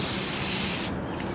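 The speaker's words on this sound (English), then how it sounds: "gently mist them in like so" A spray bottle mists freshly planted basil and marjoram seeds in soil: a close, steady hiss of spray lasting under a second, then stopping abruptly, leaving a faint quiet tail.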